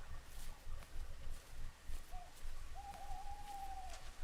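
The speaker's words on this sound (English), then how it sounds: "Or is that an owl?" An owl hoots in the video game The First Tree, with a short call followed by a longer drawn-out hoot, faint and distant over a soft, steady ambient background with no talking.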